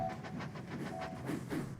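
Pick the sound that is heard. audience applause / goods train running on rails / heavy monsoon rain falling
goods train running on rails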